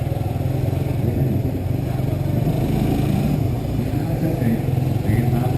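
A Suzuki GSX-S150 motorcycle engine, a 2019 model ridden in first gear, drones steadily up close with a slight shudder and a low rumbling buzz throughout.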